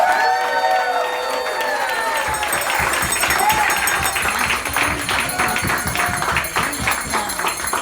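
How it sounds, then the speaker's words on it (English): Audience at the Louisiana Center for the Blind's summer training program applauds and cheers for its STEP participants, steady crowd clapping with raised voices and chatter throughout. "let's give it up for all of our STEP program participants"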